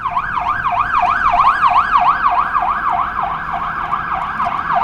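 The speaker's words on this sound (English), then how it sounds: "Ambulance." A cartoon ambulance siren wails in a rapid, regular rising-and-falling cycle, loud and close, repeating steadily over a low vehicle rumble.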